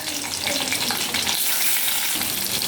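Curry leaves, garlic and dried red chillies frying in hot oil for a mint chutney tempering give off a loud, dense, steady sizzle with crackling throughout, and no voice is heard.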